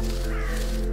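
Ravens cawing in the video game Röki, a loud, close, harsh call that runs without a break through the whole second and fills the moment alone.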